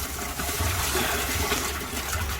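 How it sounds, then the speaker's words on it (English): Water drains steadily out of a pool D.E. filter collector tank through a running drain pump, a continuous rushing, gushing flow with a low pump rumble underneath, close and fairly loud throughout. "So what we're doing now is we're draining the tank. See how the water's going out?"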